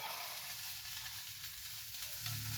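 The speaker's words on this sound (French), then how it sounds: "je verse les oignons encore fumants" Hot, still-smoking onions go into an egg mixture for a tuna and onion quiche, making a faint, steady hiss with no clear breaks, close but quiet.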